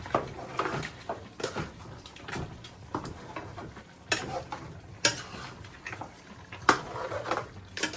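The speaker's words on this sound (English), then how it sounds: "Give this a stir." A pot of stew made with cow skin and hooves is stirred after a bay leaf goes in, a spoon scraping and knocking in uneven strokes against a soft simmering background, close and moderately loud with no talk.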